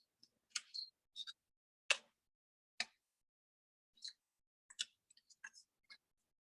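A handheld craft punch snaps through paper several times, each press a quick, crisp click or crunch, spaced irregularly and fairly quiet in an otherwise silent room.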